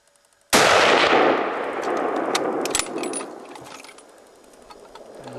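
A single loud, close rifle shot fired at a moose during a hunt in British Columbia, Canada, cracking sharply and then rolling off in a long fading echo across open country, with no talk.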